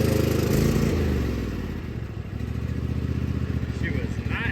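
Riding lawn mower engine cranking and catching on full choke, then running unevenly with a surging, pulsing idle up close while a person talks.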